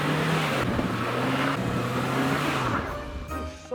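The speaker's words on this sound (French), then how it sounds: "Je sors du trou en marche arrière." A Dacia Logan engine revs steadily while the car reverses out of a hole, a close, continuous droning note that rises and falls slightly and then eases off near the end.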